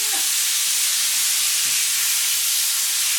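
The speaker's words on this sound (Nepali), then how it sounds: "अब मेरो यो कुकरमा 4 सिटी लागिसक्यो" A pressure cooker holding goat leg soup lets off steam in a loud, steady hiss that fills the whole stretch, with no talking.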